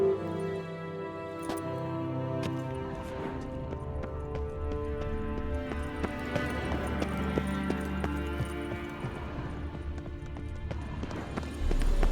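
Rhythmic hoofbeats of a galloping horse in a video game pound steadily over a sustained musical backdrop, building in intensity toward the end.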